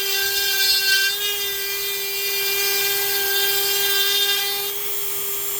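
A Dremel rotary tool with a burr carves an olive wood pipe, giving a steady, close, high-pitched whine with a grinding rasp that varies slightly as the burr bites into the wood.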